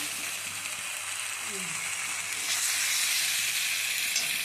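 Egg curry with potatoes sizzles steadily in hot oil, a broad, constant frying hiss that grows a little louder partway through.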